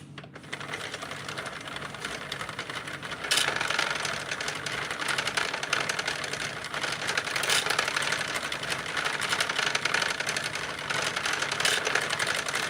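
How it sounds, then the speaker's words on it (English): A 48-pin Sentro circular knitting machine is hand cranked through its first rows, giving a steady close clicking rattle that runs without a break. "I like to hand crank these first few rows before I start using my electric tools."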